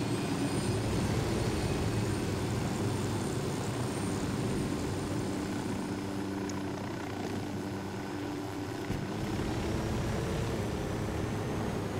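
Helicopter flying at night over Bolivia in the Ghost Recon video game, a loud, steady rotor and engine drone that holds evenly throughout with no speech.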